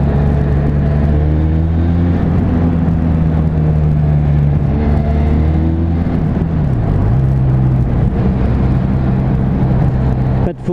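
Italian motorcycle engine while riding, a steady, loud droning hum with wind rumble that dips briefly in pitch as the engine slows, then holds steady again.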